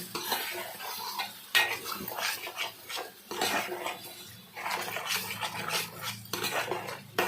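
A utensil scrapes and clinks against a pan while curry ingredients with tomato juice are stirred, in repeated close strokes with short pauses and a soft sizzle underneath.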